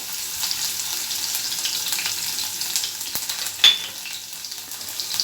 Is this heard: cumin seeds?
yes